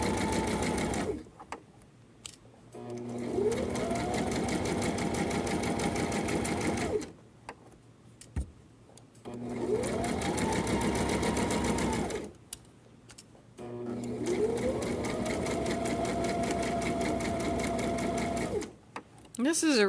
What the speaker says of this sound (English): is just sewing that little piece right there